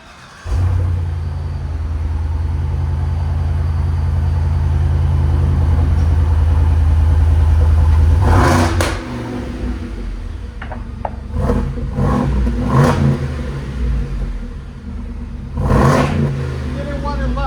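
A 2025 Ford F-250 Super Duty gas V8 with a Carven R-Series exhaust holds a loud, steady low drone, then gives several sharp revs, each rising and falling in quick succession.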